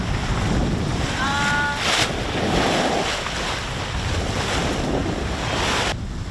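Wind blows over open water with whitecaps, at roughly 15 knots, while sailing aboard a larger boat. It makes a constant, rushing gust noise across the microphone over the slosh of waves, and no one speaks.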